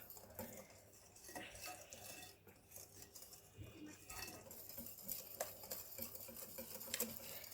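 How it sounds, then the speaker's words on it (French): Flour being mixed into apple cake batter in a bowl, with a utensil clinking and scraping against the bowl in uneven, close taps and soft stirring strokes throughout. "et on continue avec un peu de farine pour ensuite mélanger."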